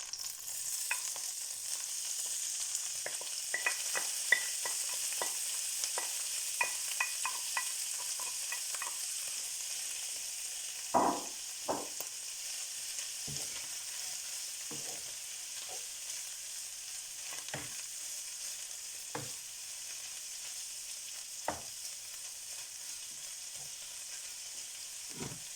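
Minced beef for beef samosas frying steadily in a pan, a soft continuous sizzle broken by repeated close scrapes and knocks of stirring.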